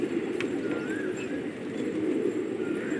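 Gola pigeons cooing in a loft, a dense continuous murmur of soft coos from several birds close by, with occasional faint chirps above.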